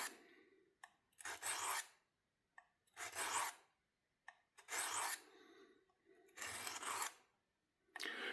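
A knife bevel is sharpened on a Work Sharp field sharpener, giving five raspy scraping strokes in an even rhythm with short pauses between, close and fairly quiet.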